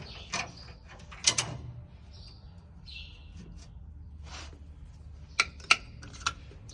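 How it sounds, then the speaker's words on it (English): A metal bolt drops into place on a combine harvester rotor, giving a few sharp, close clanks against a low background rumble with no talk. "Go ahead and drop a bolt right there."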